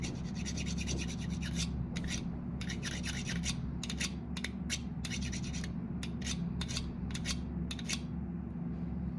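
Metal file strokes rasping along the cutting bevel of bypass pruners during sharpening, a run of repeated scraping passes in bursts, close and steady over a constant low background hum.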